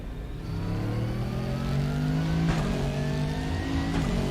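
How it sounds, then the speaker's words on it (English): A deep, rumbling V8 race car engine in the racing game RaceRoom revs and builds steadily, loud and close, with a throaty growl and no talk. "Rumbly V8 in front of us."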